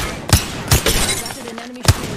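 Sharp, cracking impacts from an enemy shield breaking during a platinum ranked solo battle-royale shooter match, three loud punchy bursts spread among gunfire-like game noise, up close.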